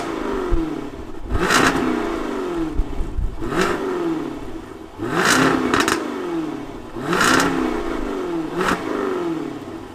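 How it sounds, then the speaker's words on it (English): A 2023 Jaguar F-Type P450 supercharged V8 revs loudly in four or five sharp, rising bursts with steady idle between them, close by. "let's fire up this thing and hear what"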